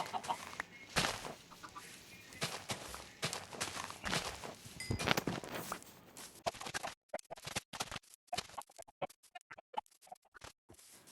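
Chickens clucking in Minecraft amid scratchy rustling and light footsteps, fairly faint, with a few brief quiet gaps toward the end.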